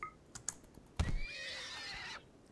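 A horse in the video game RimWorld lets out a long, high whinny after a sharp thump, with a few faint clicks of keyboard typing before it.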